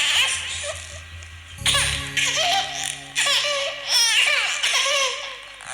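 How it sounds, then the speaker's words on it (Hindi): A baby cries and wails in repeated bursts after a brief quiet start, loud and close, with sobbing, giggle-like catches between cries in a dense forest setting. "बच्चे की रोने की आवाज"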